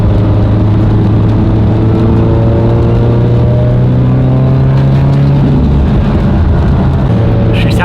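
A 1,000 whp Subaru STI engine revving and droning close up, pitch rising and falling with crackling burbles near the end, while people talk over the engine.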